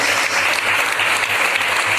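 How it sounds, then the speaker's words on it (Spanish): A church congregation at a Good Friday service claps loudly and continuously, a dense, close wash of many hands with no pause. "Ese aplauso fuerte para el Cordero"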